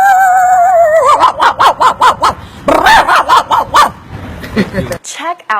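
A man imitates a dog with his mouth, his voice producing a loud, close run of rhythmic, realistic barks, opening with a whine and ending in a few yelps and whimpers.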